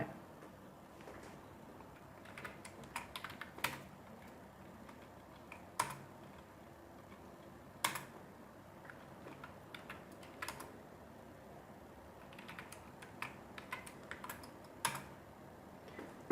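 Close computer keyboard clicks as Linux commands are typed, coming in irregular bursts of keystrokes with brief pauses and louder isolated taps in a quiet room.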